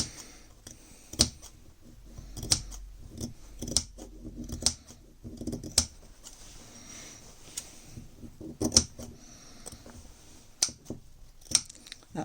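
Scissors snip small notches into fabric at about one-centimetre spacing, a dozen or so crisp, close metallic clicks at irregular intervals over quiet room tone.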